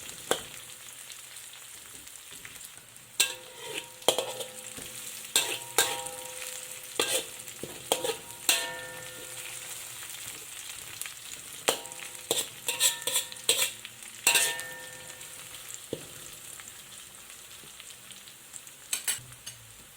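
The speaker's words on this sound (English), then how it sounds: "cook for about a minute or a minute and a half. At this point you can see most of the onions have turned brown" Onions frying in a pan for an Indian-style red claw crayfish curry, a steady close sizzle broken by repeated sharp metallic clinks and scrapes of stirring, with no one speaking.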